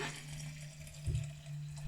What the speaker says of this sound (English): I boiled some potatoes until they are soft, and I'm gonna just pour water off them